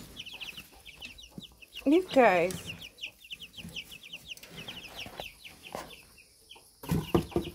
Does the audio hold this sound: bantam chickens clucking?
yes